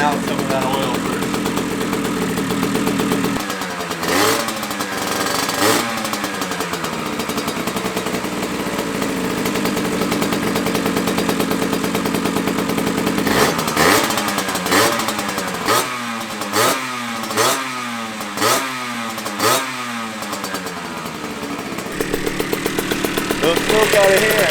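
A 1982 Honda MB5 70cc two-stroke engine with a new build runs while burning off oil, idling with a buzzy rasp and then revving in repeated sharp blips, loud and close, with some talk around it.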